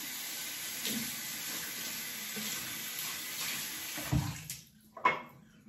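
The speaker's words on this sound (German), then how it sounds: "Einmal kurz in dem Wasser schwenken und dann wieder aufgeschäumt." A synthetic KLAR travel shaving brush swishes through water, giving a continuous soft watery sloshing, followed near the end by a couple of sharper splashes and drips.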